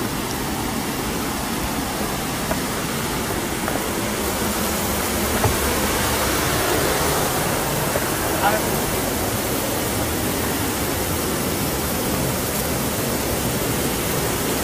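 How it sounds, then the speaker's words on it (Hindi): Water pours from the hills into a deep pit below Dhanraul Dam near Robertsganj, Sonbhadra, Uttar Pradesh. It makes a steady, even rushing roar that holds unbroken from start to finish. "बीच में काफ़ी बड़ा गड्ढा है जहाँ पे पानी गिरता है और बहुत ही अच्छा वाटरफॉल बनाता है"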